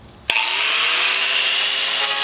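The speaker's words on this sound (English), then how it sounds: "pull out the usual suspects, wire brushes and whatnot, and get to work on this rust" After a sudden start, a steady, loud abrasive scrubbing runs continuously as a power wire brush grinds rust off a vehicle's metal rockers and doors up close.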